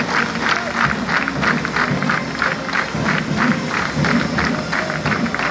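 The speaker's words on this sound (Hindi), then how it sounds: "आइए जोरदार तालियों के साथ इनका स्वागत करें" A crowd at a BSF passing-out parade claps loudly and steadily, an even, continuous roar of applause with faint rhythmic bursts and no talking.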